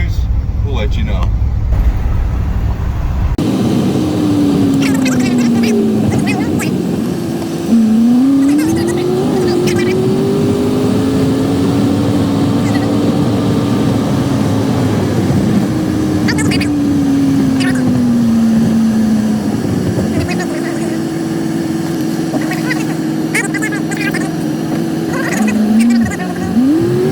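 A 1958 Chevrolet Biscayne engine running low on compression after years of sitting, a steady loud drone with rising and falling revs as the car drives, continuous and close throughout.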